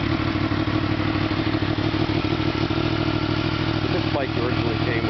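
A Yamaha MT-10 motorcycle fitted with a Leo Vince exhaust, K&N filter and FTecu tune runs at a steady idle nearby, a continuous rumbling drone with faint mechanical clatter.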